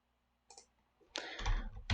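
A few keystrokes on a computer keyboard typing a search into a browser on a Windows PC, a short pair of clicks followed by a denser burst of close, crisp tapping.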